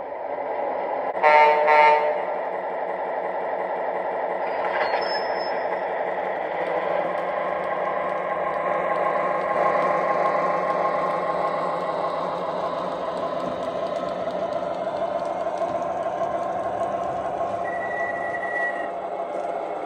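An MTH Rail King PRR SW9 switcher model locomotive starts up with a short horn toot, then settles into a low humming engine drone with faint mechanical whines.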